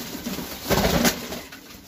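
Cooing of a female show pigeon of a Turkish breed at a breeder's loft, a soft low rolling coo near the microphone, brief and alone without talk.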